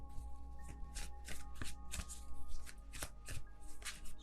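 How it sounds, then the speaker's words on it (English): Tarot cards being shuffled by hand, a quick rhythmic series of soft riffling and slapping bursts close to the microphone, fairly faint and with no voice. "I'm just gonna wait until it feels right and then take out all of the cards at once."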